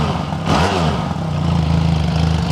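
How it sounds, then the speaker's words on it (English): A 2024 Benelli 502X motorcycle engine idling with a deep, throaty rumble, then revved briefly and settling back to a steady idle, loud and close. "Give it a little bit of a rev."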